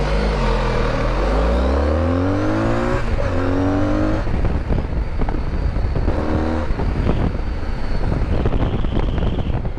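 A BMW CE04 electric scooter pulls away from a green light in traffic, a loud, close, rising whine as it accelerates over steady wind noise, with other passing traffic and no talk.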